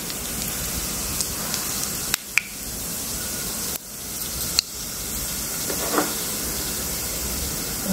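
Cumin seeds crackle in hot oil as the spice tempering for a fasting-style cashew curry, a steady close hiss with a few sharp pops and brief dips.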